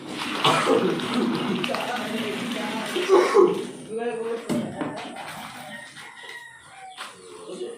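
Chickens cluck and a rooster crows nearby, with people talking over the birds throughout.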